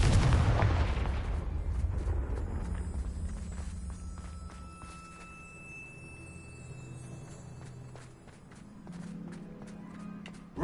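Confringo fire spell blast in the video game Hogwarts Legacy: one loud booming impact at the start that rumbles and decays over several seconds, followed by quieter game ambience and faint tones, no talk.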